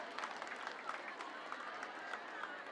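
Audience clapping at a community gathering held in a church, a soft, fairly distant patter of many hands sustained throughout with faint crowd noise.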